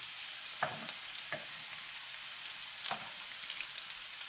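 Onion sautéing in a little cooking oil produces a soft, faint crackling sizzle with scattered pops and occasional spatula taps, heard close and without voices.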